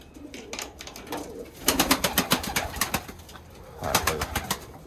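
Iraqi red pigeons kept in Germany coo in a loft, with repeated soft bursts that cluster in two busier runs midway and near the end, close and moderately loud.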